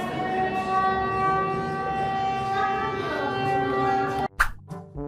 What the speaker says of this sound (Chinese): 你有没有听到空袭警报？